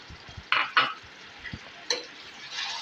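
Tomato puree cooking in a pan with onions for pav bhaji, giving a low sizzle under a few short scraping stirs and clinks of a spoon against the pan, close by and fairly quiet.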